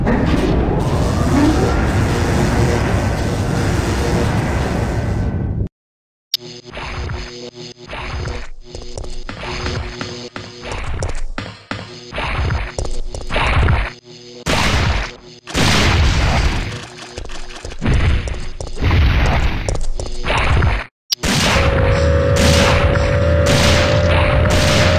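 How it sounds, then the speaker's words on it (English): A rail cannon fires in Resident Evil 3 Nemesis Edition: heavy booming blasts and crashing impacts, loud and close, separated by sharp cutoffs and short silent gaps, with a rising tonal whine near the end. "Rail cannon has been activated. Executing quick charge program. Preparing to fire."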